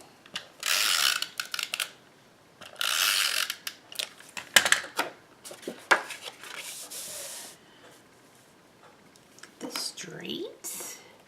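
A Snail adhesive tape runner is rolled across cardstock in several short bursts of raspy, ratcheting clicks. Brief softer handling sounds come between the strokes, and the runner is heard up close.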